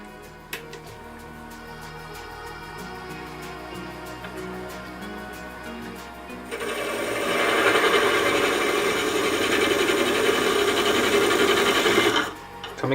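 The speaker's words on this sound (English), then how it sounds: "Let's see if I can do a good job with the skew this time." A skew chisel cuts spalted oak on a wood lathe for a lidded box, giving a steady scraping rasp. The rasp grows louder and brighter midway, holds for several seconds, and stops abruptly near the end.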